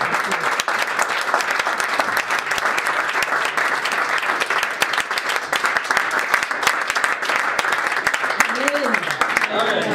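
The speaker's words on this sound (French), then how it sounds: "On applaudit pour Dieu, s'il vous plaît. Applaudissons pour Dieu." A church congregation applauding for God: steady, dense, loud clapping throughout, with voices rising briefly near the end.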